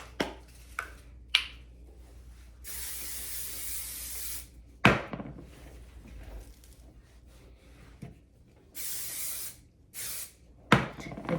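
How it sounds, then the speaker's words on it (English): Hairspray misted onto curled hair in several short bursts of hissing spray, separated by small handling clicks and taps, close and fairly quiet. "I do need hairspray."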